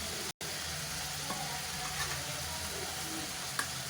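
Ginger-chili paste sizzling in a pan with sautéed onions and tomatoes for paneer tikka butter masala, a steady close broadband frying hiss with faint stirring, briefly cut out near the start.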